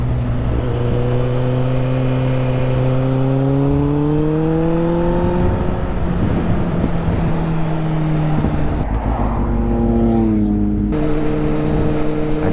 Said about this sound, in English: That guy went fast over there on a bike. I think I could hear him